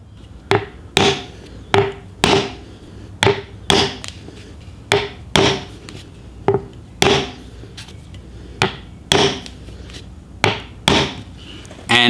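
A hammer taps a wooden-handled chisel while hand carving stars into a wooden flag, giving about sixteen sharp, evenly spaced knocks at close range with brief pauses between groups.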